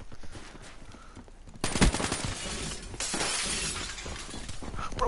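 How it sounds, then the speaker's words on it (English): Glass shatters in the Black Ops 3 video game with a sudden loud crash, followed by sustained breaking and crunching debris amid gunfire-like bursts, dense and close. "I hear glass breaking everywhere,"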